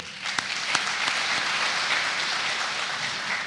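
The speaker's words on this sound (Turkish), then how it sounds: "ben her birinizi gönülden tebrik ediyor ve gerçekten alkışlıyorum" Audience applause at an industrialists' consultation meeting at the Torbalı Chamber of Commerce in İzmir: a steady wash of clapping for about three seconds, fairly even and moderately loud, with a few sharper claps near the start.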